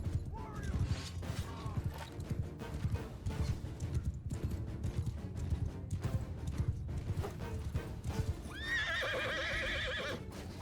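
Cavalry horses gallop in Mount & Blade 2: Bannerlord, a steady rumble of many hooves with a horse neighing loudly near the end, as if from a battle.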